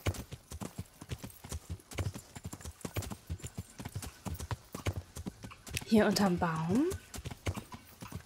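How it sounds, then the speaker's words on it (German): Rhythmic clip-clop of horse hooves in the medieval game Kingdom Come: Deliverance, steady under someone talking, with a brief horse whinny partway through. "Hier ist ein Pferd."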